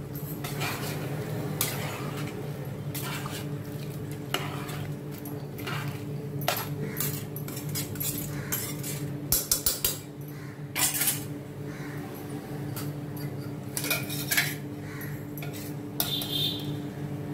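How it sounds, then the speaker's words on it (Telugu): A spoon stirs and scrapes food around inside a cooking pot, giving soft clinks and rattles, then a metal lid clanks on with a few sharper knocks, all fairly quiet and close. "ఒకసారి అంతా కలబెట్టుకుని ఇంకా లిడ్ పెట్టేద్దాం"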